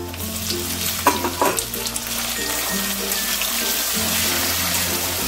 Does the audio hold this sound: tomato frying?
yes